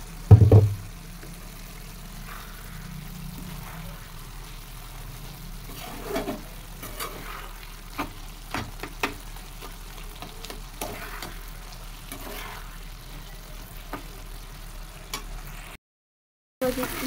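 Radish bhaji frying in a pan: a steady soft sizzle under repeated scrapes and knocks of a spoon stirring, with a sharp clatter at the start, close by and without talk.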